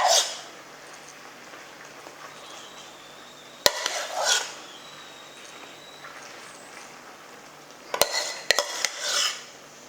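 A utensil spreads lasagna sauce across a pot, close-up scraping and smearing strokes with a few sharp clinks of metal against the pot rim, alone without talk.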